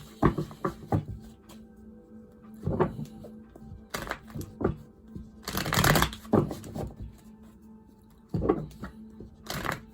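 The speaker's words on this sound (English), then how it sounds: "And while I'm shuffling, I see the moon card here." Tarot cards being shuffled in several bursts of quick riffling and flapping, close up, separated by short pauses, with no voices.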